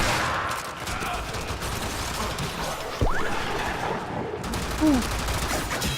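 Tigris Prime shotgun blasts in the game Warframe, heavy booming shots mixed with crashing impacts and whooshes amid busy combat noise, with a louder blast near the middle and another toward the end.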